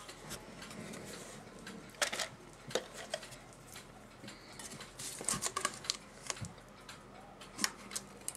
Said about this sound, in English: So I just have to tap that one up.